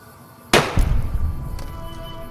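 A pistol shot in Fallout New Vegas gives one sharp, loud crack, followed by a rumbling echo that fades away.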